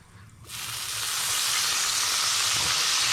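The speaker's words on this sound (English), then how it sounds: "all I'm going to do is just add about a tablespoon of light soy sauce to that" Light soy sauce sizzles hard the moment it hits a hot pan, a sudden loud steady frying hiss that swells and holds, no voices over it.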